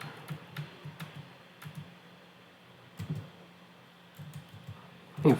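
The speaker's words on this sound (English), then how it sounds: "So if I type in lshw, hopefully that works here." Keys clatter on a computer keyboard as a short Linux command is typed, in soft scattered bursts of clicks with a louder keystroke at the end, close and quiet.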